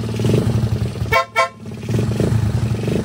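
Two short, loud horn honks sound back to back over a steady idling stripped-down skeleton motorcycle engine.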